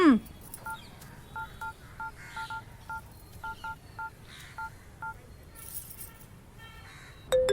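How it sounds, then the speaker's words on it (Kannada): Phone keypad tones beep one after another in a quick, uneven sequence, each a short clear electronic pip, over a quiet background. "ವಿಷ್ಣು, ವಿಕ್ಕಿ, ನಿಮ್ಮಮ್ಮ ಫೋನ್ ಮಾಡಿದಾರೆ ನೋಡು."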